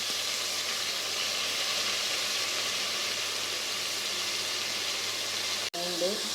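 Ginger garlic paste hisses steadily in hot oil with sautéed cinnamon, fennel and cloves, cooking for coconut milk rice pulav. The even, fairly loud sizzle runs throughout, ending with a brief sharp clatter.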